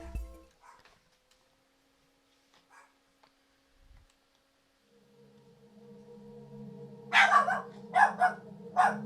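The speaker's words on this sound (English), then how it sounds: "Puppy barking." A puppy barks in a dark video game scene: a quiet stretch of faint game ambience, then three or four sharp, close bark bursts near the end over a steady low hum.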